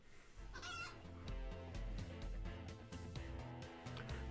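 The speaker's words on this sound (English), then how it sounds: "The severity of their angry clucks is so great that they can create small shockwaves." The Clucky Billy, a chicken monster from the video game Cassette Beasts, gives repeated clucks over steady background game music, with no voices.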